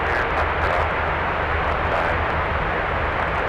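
Saab 2000 turboprop airliner departing, a loud, sustained roar of engines with broad rushing noise, steady and close, with no voices.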